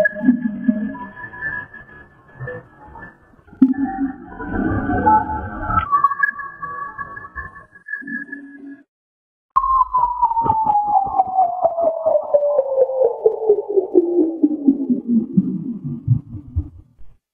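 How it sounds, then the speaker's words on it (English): BLC1 radio signal recording: warbling, rumbling tonal bursts followed after a short silence by a loud steady tone gliding smoothly downward in pitch, a Doppler-like sweep, with no talk. "here for the first time on my social media channel, is the signal from BLC1."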